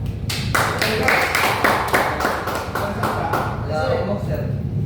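A small group claps along in quick, rhythmic applause at a SMAW NC I welding assessment, close and lively, with people talking over the clapping.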